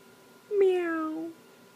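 A young child imitates a cat's meow with one clear, drawn-out, falling meow, close and alone against a quiet room.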